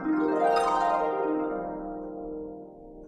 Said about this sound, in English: Let's listen to what a glissando sounds like.